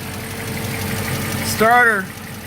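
A car engine fires and runs loudly up close after a starter relay repair, a steady rumbling idle under excited talk.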